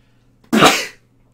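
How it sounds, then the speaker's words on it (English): A single sharp, explosive sneeze, loud and close, lasting under half a second against a quiet background. "I'm going to sneeze."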